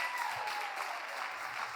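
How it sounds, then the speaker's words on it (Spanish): A church congregation applauds together, a dense, even wash of clapping that holds steady throughout at moderate distance. "Denle un aplauso al Señor."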